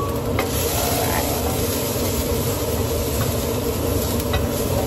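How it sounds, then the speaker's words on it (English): Garlic and ginger sizzle in hot olive oil in a pan while being stirred. The frying hiss is steady and close, with occasional scrapes from the stirring. "I'm gonna throw my garlic and ginger in, hear that sizzle"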